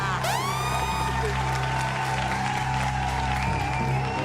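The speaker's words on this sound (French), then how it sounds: "on peut applaudir encore très fort, s'il vous plaît, l'homme qu'on appelle." Studio audience applause during a talk show, with whistling and cheering over the clapping, set against sustained musical tones and a rising swoop at the start.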